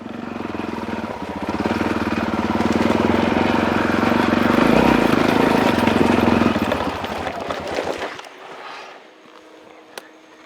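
A dirt motorcycle on a steep hill chugs loudly with a rough, pulsing engine note, then abruptly stalls and goes quiet, leaving faint ticking and a small knock near the end.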